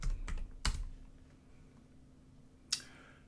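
Keys are typed on a computer keyboard while entering a line in Siemens NX11 drawing software: a quick cluster of close clicks at the start, then a pause and one more isolated keystroke.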